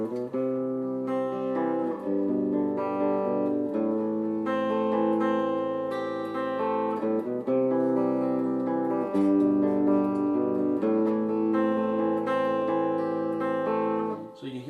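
Bright, crisp clean electric guitar on the bridge pickup through an Orange Crush CR120C 2x12 combo amp, steady chords and picked notes ringing clearly with a twangy edge, continuous for the whole stretch.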